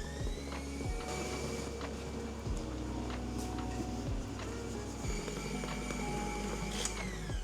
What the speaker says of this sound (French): on va le faire tourner à vitesse maximum au batteur.